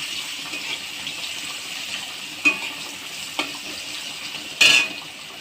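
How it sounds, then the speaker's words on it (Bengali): Salted onions fry in a pan for khichuri with a steady close sizzle, broken by a few sharp clinks and scrapes of a utensil stirring them, and no voices. "সেই জন্য পেঁয়াজটা ভালো করে ভেজে নিব আমি"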